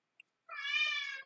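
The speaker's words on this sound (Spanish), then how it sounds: "Mi gatito se llama Mikel." A kitten lets out one drawn-out, close meow lasting nearly a second, preceded by a tiny click in an otherwise quiet room.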